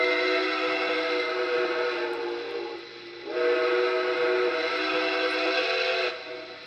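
A model train whistle blows in two long, steady chord-like blasts separated by a short pause, loud and close, on a Nickel Plate Road 765 engine.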